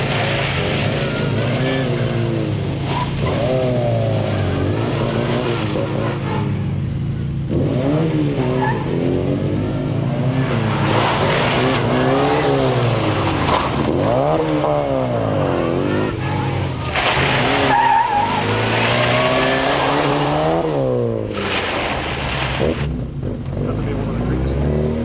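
Mini Cooper S rally car on a Circuit of Ireland stage, engine revving hard with tyres skidding, its pitch rising and falling through gear changes, loud and close, with a narrator talking over it.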